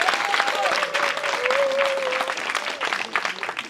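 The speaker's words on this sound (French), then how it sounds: "Je voulais également que vous applaudissiez le ministre-gouverneur," A crowd at a women's celebration gathering in Gontougo claps for the minister-governor, with lively, dense applause. A faint tonal whistle-like sound runs through the middle of the clapping.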